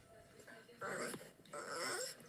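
A dog whimpers softly in a played-back recording, a faint high whine rising and falling in two drawn-out bursts against low background hiss.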